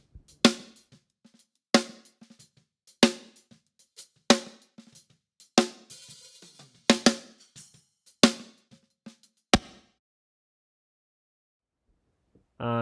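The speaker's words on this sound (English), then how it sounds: "And on the snare I actually have a different reverb." Snare drum hits played alone with a long Logic Space Designer reverb tail, about eight evenly spaced strikes every second or so, each ringing out into a wash before fading to near silence.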